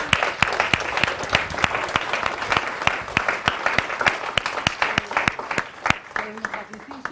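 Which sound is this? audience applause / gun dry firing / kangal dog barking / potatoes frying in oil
audience applause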